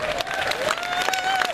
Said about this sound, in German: Mal einen kleinen Applaus für unseren Sven am Ton.